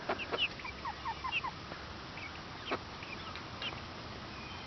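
Backyard chickens cluck and squawk nervously at bedtime, with short, scattered calls over a low, steady background hum.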